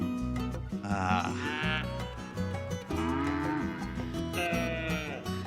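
A dairy cow waiting to be milked gives loud, drawn-out moos one after another, close by and with no voices.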